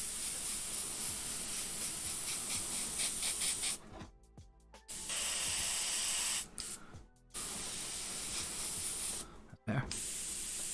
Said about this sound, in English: Make sure we've got the orange coming out the airbrush and not the yellow.